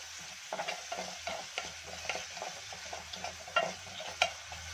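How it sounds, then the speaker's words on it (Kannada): Chopped onion frying with salt in a pan, a steady close sizzle under repeated scraping strokes of a spatula stirring, with a few sharper clacks against the pan. "ಈಗ ಮತ್ತೆ ಒಂದ್ಸತಿ ಫ್ರೈ ಮಾಡ್ಕೊಳ್ಳೋಣ ಈರುಳ್ಳಿ ಸ್ವಲ್ಪ ಫ್ರೈ ಆದರೆ ಸಾಕು"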